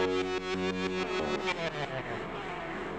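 A sustained EBow guitar tone runs through ping pong delay and modulation effects, its pulsing repeats smearing into a swirling wash over a few seconds, loud and alone.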